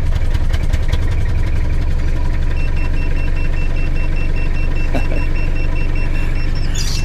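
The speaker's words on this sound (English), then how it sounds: "this is a diesel motor car" A diesel car engine idles close by, holding a steady low rumble for several seconds with a faint high whine above it and a brief click near the end.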